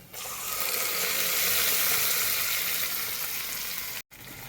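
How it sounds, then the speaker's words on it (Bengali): Mung dal added to hot spiced oil in a wok, giving a loud, steady sizzle and crackle that holds for several seconds, then cuts out briefly before resuming. "এবার আমি ডালটা দিয়ে দেব কড়াইয়ের মধ্যে।"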